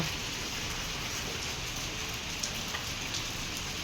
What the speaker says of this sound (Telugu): వర్షం పడుతుంది కదా వర్షం పడుతుంది